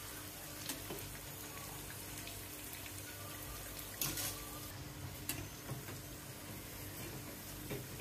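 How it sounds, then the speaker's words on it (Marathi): Mirchi bajji chili fritters fry in a little oil, a steady soft bubbling sizzle with occasional small pops, fairly faint and with no talk. "कमी तेलात फ्राय होतोय."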